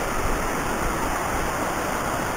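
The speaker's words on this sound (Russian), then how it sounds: "Вот отсюда видим хорошо водопад." The Aatsy waterfall in the Bronze Gorge of Abkhazia, roughly 20 to 30 metres high, roars as a steady, dense rush of falling water heard from a nearby bridge, continuous and unbroken.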